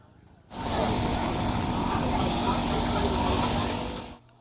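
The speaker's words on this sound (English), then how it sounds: "After lunch, the B1 was steaming." Steam hisses loudly and steadily from a B1 steam locomotive, a broad continuous rush that starts suddenly, holds for several seconds and then stops.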